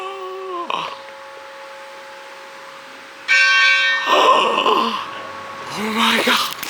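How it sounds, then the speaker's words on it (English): A train bell rung at a roadside attraction on a Nebraska and Iowa road trip clangs loudly with bright ringing strikes, first one near hit, then a burst of repeated rings, with excited gasps and voices around it. "I just got to ring the train bell"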